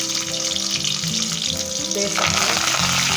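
Onion and curry leaves fry in a pan with oil and mustard seeds, a steady loud sizzle and crackle that grows denser and brighter partway through, close by, with no talk over it.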